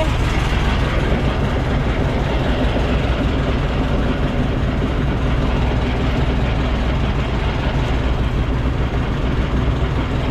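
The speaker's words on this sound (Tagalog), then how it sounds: "Dalawang makina para matuloy-tuloy yung ating takbo." Loud, steady drone of twin boat engines with a deep low rumble, running continuously without change at cruising speed on a fishing trip.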